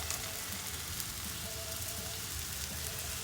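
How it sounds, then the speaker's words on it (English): Broccoli sizzles on an oiled 22-inch Blackstone griddle, a dense, even hiss of frying that runs loud and unbroken from start to finish. "Put this broccoli down on the grill."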